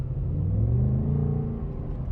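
A Ford Mustang Dark Horse V8 exhaust in sport mode rumbles steadily, with a low growling drone that swells slightly, close and loud with no talking.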